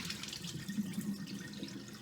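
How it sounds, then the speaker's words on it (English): Water running from a tap to give a pot of rice a single quick rinse, a steady moderate splashing and trickling that continues throughout without any talk. "So we're just gonna give it a quick little rinse and rinse some of the starch out."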